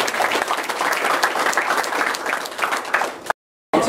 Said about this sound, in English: Let's give a big round of applause to Luke.